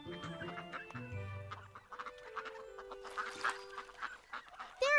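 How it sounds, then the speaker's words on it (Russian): Cartoon ducks on a farm pond honk and quack in a busy, overlapping chorus, with high squawks and bright cartoon music notes over a steady low background. "Сегодня в пруду много уток."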